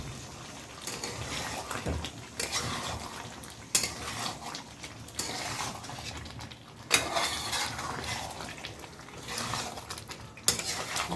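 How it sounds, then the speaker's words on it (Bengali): Spicy Bengali-style chicken curry with garam masala stirred in a pot, a spoon scraping and clinking against the metal in repeated bursts over a soft sizzle of thick gravy. "ভালো করে নাড়িয়ে নিতে হবে গরম মশলার গুঁড়োটা দিয়ে, যাতে পুরো তরকারিটায় মশলাটা মেশে।"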